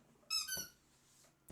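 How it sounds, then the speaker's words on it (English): A dog's squeaky toy lets out a faint, high squeak, followed by a second brief squeak a moment later in a quiet room. "And you can hear the squeak toy."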